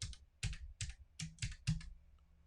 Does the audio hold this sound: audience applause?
no